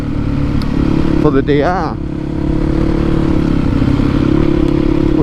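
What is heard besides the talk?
Yamaha WR450F motorcycle exhaust with new baffle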